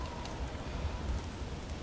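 A storm in the Alfheim desert in God of War Ragnarok gives a steady, low rushing hiss like heavy rain, quiet and unbroken throughout, with no voices.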